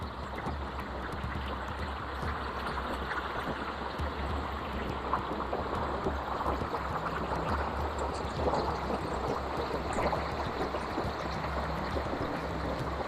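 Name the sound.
river stream flowing water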